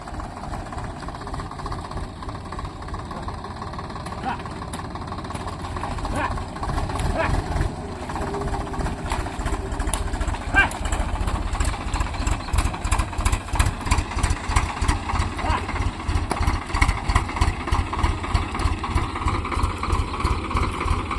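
A tractor engine runs in a rice field, a steady mid-pitched chug that grows louder and more rhythmic over time, with a person talking over it.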